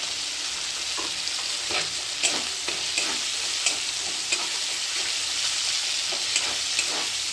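Tomatoes frying in a spiced gravy for a Bengali koi fish dish, a steady close sizzle with scattered stirring scrapes and light clicks of a utensil, no voices.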